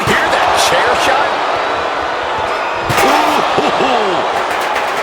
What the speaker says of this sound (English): Did you hear that chair shot?